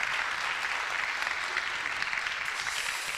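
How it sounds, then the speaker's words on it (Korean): A church congregation gives steady, welcoming applause to a pastor's wife as she is introduced, the dense clapping filling the room evenly and continuously without a pause. "여러분 감사의 박수도 격려의 박수로 맞이하겠습니다"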